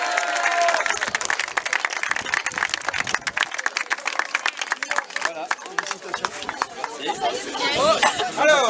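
An audience at a woodcraft awards event claps and cheers in a dense, lively burst, with chatter mixed through the applause and the noise swelling toward the end.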